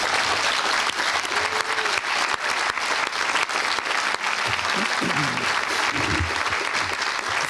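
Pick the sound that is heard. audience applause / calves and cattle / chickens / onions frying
audience applause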